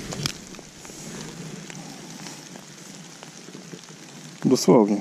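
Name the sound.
rain falling outdoors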